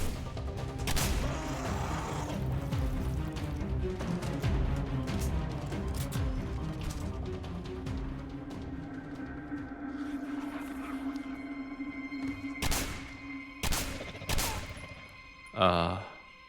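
Rapid weapon fire in the video game Singularity, a dense, continuous stream of shots under layered game effects and a low hum, followed by a few louder separate blasts and crashes near the end.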